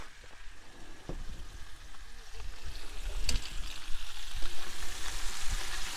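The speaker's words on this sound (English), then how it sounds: "a little bit more oil just to get the veggies frying off." Vegetables sizzle and crackle in hot oil in a pan at a campsite, the hiss growing louder over a few seconds, with a few clinks of utensils.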